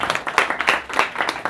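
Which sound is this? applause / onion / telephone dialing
applause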